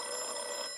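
A telephone bell rings in an old-time radio detective drama, a single short burst of bright, steady ringing with no voices.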